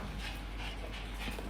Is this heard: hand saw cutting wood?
no